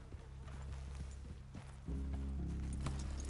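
Horses' hooves clip-clop in a steady walking rhythm as riders dismount in the Western video game Red Dead Redemption 2, close and clear over a low sustained musical drone that grows louder partway through.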